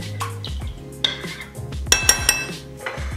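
Aguachile ingredients are stirred in a bowl with a utensil, giving repeated scraping swirls and several sharp clinks of metal against the dish, close and with no talking.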